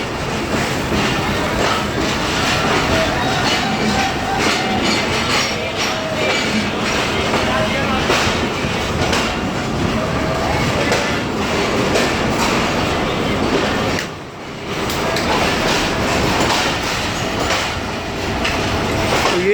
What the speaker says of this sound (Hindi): तो अब मैं थोड़ा खामोश हो जाता हूँ कि आप लोग सही से ट्रैक साउंड भी इंजॉय कर लें